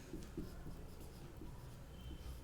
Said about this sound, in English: let us write down the answer